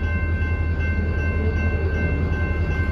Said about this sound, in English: Big train here, guys.